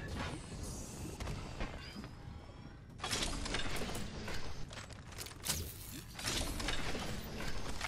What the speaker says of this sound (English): Placing gas trap.